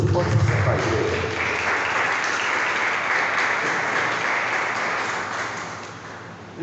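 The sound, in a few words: congregation applause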